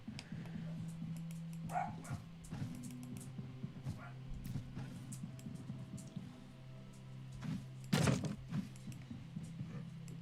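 Dogs bark in the fantasy role-playing game Stoneshard, with scattered short barks and thumps over a faint low game ambience, one louder burst near the end.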